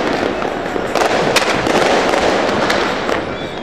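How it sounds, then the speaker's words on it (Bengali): Fireworks bursting on New Year's night, a dense continuous barrage of loud crackling explosions with sharper bangs rising out of the steady roar throughout. "একের পর এক আতশবাজি ফোটানোর মধ্য দিয়ে আলোকিত হয়ে ওঠে নতুন নববর্ষের রাত"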